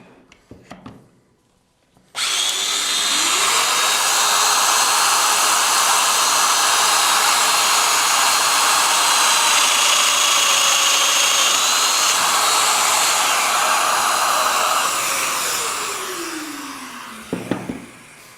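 A Festool Domino DF 500 joiner cuts joints along a wooden handrail, a loud, steady high-pitched motor whine with a rising spin-up and a falling wind-down, running continuously for about thirteen seconds between brief handling clicks.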